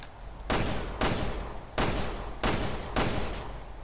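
Five heavy gunshots from Resident Evil Revelations 2, fired in a steady rhythm about half a second to a second apart, each a loud, close crack with a long reverberant tail, no talking.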